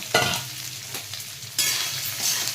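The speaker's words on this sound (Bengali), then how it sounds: "একটু সয়াবিনটাকে ভেজে নেব, একটুখানি হলুদ দেবো তেলে, আর একটুখানি নুন দেবো" Soya chunks frying in hot oil with turmeric and salt in a pan: a steady sizzle broken by scraping stirs, swelling louder partway through, with no one speaking.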